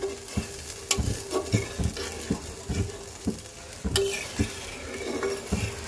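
Mutton curry with meat-boiling broth added, stirred in a pot for a thin Bengali goat-meat jhol: steady rhythmic scraping and clinking strokes of a spoon against the metal over a soft bubbling sizzle, close and fairly quiet throughout.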